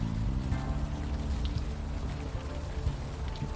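Rain in the Unavowed adventure video game falls steadily as a dense, continuous patter on surfaces with a low rumbling wash underneath, even and unbroken, with no voices.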